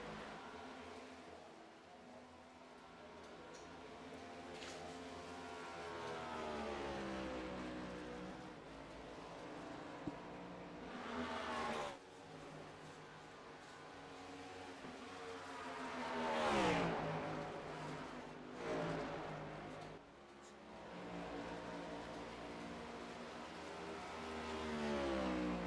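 NASCAR Next Gen race cars at Pocono, engines roaring and rising in pitch as they accelerate past, several loud swells and fades of passing cars with continuous distant engine drone between.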